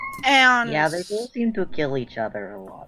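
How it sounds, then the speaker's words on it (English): A cat gives a loud, drawn-out meow right up close, followed by people talking over the tail of the sound. "That's just a cat."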